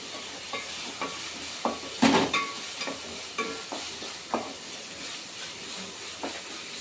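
Ginger and garlic fry in hot oil for a tomato and raw prawn curry, a soft continuous sizzle broken by repeated scraping stirs of a spoon in the pan, one sharper clatter standing out.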